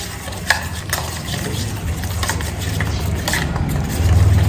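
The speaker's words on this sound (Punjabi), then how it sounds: "ਸਬਜ਼ੀ ਹੁਣ ਆਪਾਂ ਨਾਲ ਮਿਕਸ ਕਰ ਲਾਂਗੇ" Chopped vegetables are stirred into a gram-flour batter for pakoras, a close, wet, squelching mixing sound with soft rhythmic slaps, growing slightly louder toward the end.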